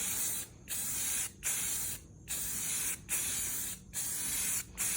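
A spray paint can lays a light coat on a wheel rim, hissing steadily in five bursts separated by short pauses, close and loud with no talking.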